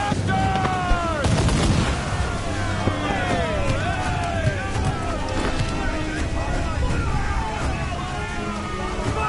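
Ship cannon and gun fire in Assassin's Creed IV Black Flag, repeated booming shots and crackling gunfire at sea amid wind and shouting crew voices, loud and continuous throughout.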